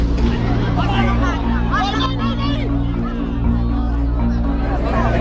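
Large restless crowd at the Palio di Siena horse race in the piazza, a dense, loud babble of many voices with whistles and shouts rising above it, steady and close throughout.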